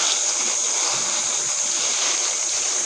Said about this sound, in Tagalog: ilalagay mo yung tubig